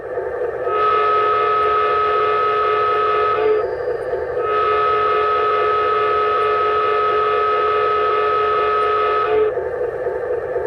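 A toy train horn from a Menards train sounds two long, steady blasts, the first shorter, with a brief gap between them, loud and close.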